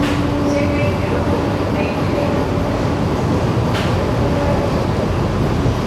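Chennai air-conditioned EMU train pulling into Egmore station, a steady loud broadband rumble of the carriage throughout with faint tonal hums and occasional squeaks, voices murmuring beneath.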